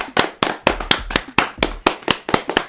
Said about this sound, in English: A round of applause for Doja Cat.